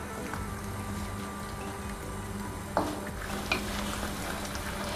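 Green mustard greens boiling in a pot of water, a steady low bubbling simmer with a couple of faint knocks midway.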